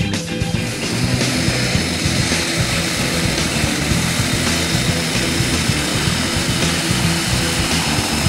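Propeller aircraft engine droning loud and steady from inside the cabin during the climb before a skydive, a constant roar with wind rush and no break for the whole stretch.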